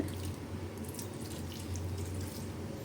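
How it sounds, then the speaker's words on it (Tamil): Water poured into a pan of onion, garlic and broccoli for a half-cook, a steady close running splash lasting the whole few seconds with no talk. "கொஞ்சமாக தண்ணி விட்டுக்கலாம்."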